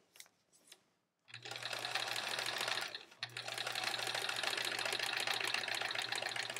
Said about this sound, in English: This is actually good practice for sewing in a straight line.